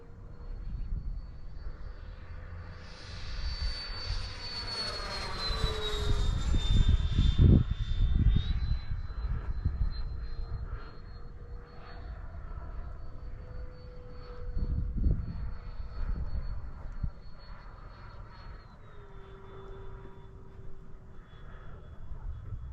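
A Freewing F-4 Phantom RC model jet flies overhead with flaps deployed, its ducted-fan whine rising and falling in pitch as it passes by several times, growing loudest around the middle, with no talking.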